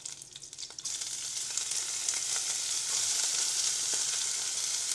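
Curry leaves and spring onions hit hot oil in a pan, setting off a sudden loud, continuous sizzle that stays strong and close, with light stirring.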